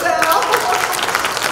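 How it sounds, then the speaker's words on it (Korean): Audience applause at an inauguration ceremony for a new chairwoman, a short dense burst of clapping from a seated crowd, steady and fairly loud throughout. "박수 한번 쳐줄까요?"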